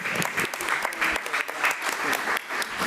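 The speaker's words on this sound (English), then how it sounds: "Let's give them another round of applause." Applause at a school board meeting, a full room clapping continuously and evenly for a few seconds, close and dense, with no voices standing out.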